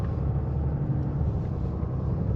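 A 2023 Ram 2500 pickup fitted with an S&B cold air intake drives at about quarter throttle, giving a steady, close, deep engine rumble with no break.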